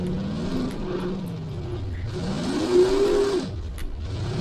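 A red Lada Niva driving slowly down a mountain in the video game BeamNG.drive, its engine droning steadily and rising and falling in pitch as the throttle changes.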